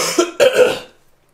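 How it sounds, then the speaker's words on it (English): Two sharp, close coughs in quick succession from a person indoors, the second longer and rougher, then silence. "I'm talking so much, I'm coughing"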